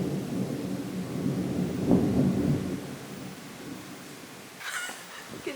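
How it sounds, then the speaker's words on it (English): Thunderstorm over the Adriatic Sea heard from a cruise ship: a deep rolling rumble of thunder swells and fades over steady rain and wind noise, with a faint brief higher sound near the end. "there's like a massive storm all across here. Huge storm."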